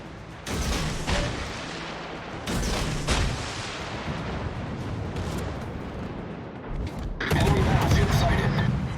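Naval gunfire from a Kiev-class ship in World of Warships, heavy booming salvos and rumbling shell fire over steady battle noise, with voices talking throughout.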